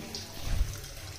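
Cold water flowing at Kaghan waterfall in Pakistan, a brief steady rush of running water, fairly close and continuous, with no talk over it.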